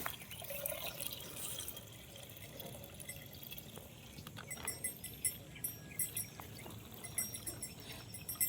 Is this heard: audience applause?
no